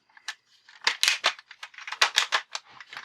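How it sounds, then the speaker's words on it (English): A Kamen Rider Ghost Bat Clock gadget toy gives off a quick clickety, revolver-like run of sharp mechanical clicks, close up and fairly loud over about three seconds with no talking. "I really like that sound, that clickety revolver sound there"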